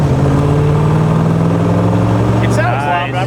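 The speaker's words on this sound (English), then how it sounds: "Well, it sounds good because you got side pipes." A 1966 Chevrolet Corvette with side pipes and a rebuilt engine pulls away through the gears, its loud steady exhaust drone shifting pitch near the end, heard up close from inside the car.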